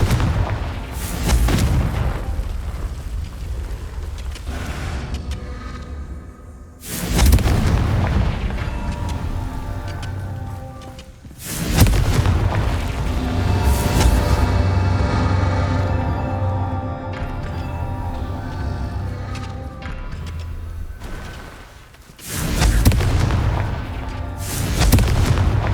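Confringo fire spell blasts in Hogwarts Legacy, a series of heavy booming explosions every few seconds, each followed by a rumbling, crackling tail, loud and close with no talking.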